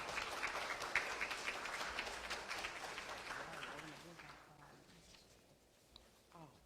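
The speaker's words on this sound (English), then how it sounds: "So give yourselves an applause for coming," An audience at a candidate forum in a church applauds, soft scattered clapping that fades over several seconds, with a voice emerging near the end.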